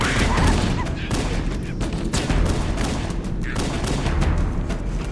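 Rapid covering gunfire rattles in the Halo video game aboard the Pillar of Autumn, with dense, continuous bursts and booming shots close by, with a few brief lulls.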